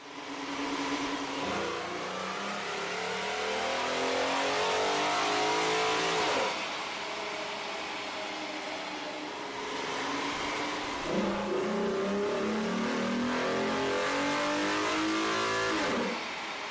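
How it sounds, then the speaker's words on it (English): A vehicle fitted with a K&N 77-2583KS cold air intake revs hard on a dyno, climbing twice through loud, rising engine sweeps with strong intake roar, close and alone. "we ran the vehicle on the dyno to test the sound comparison versus the stock intake"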